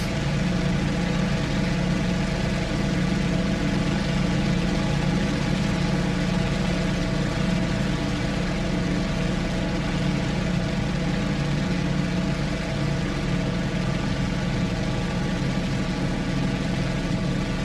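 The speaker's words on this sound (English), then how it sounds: "Can't lie, that Corsair engine sounds mean." An F4U Corsair radial piston engine from DCS World runs steadily and loudly for the whole stretch, a dense continuous rumble with no talking.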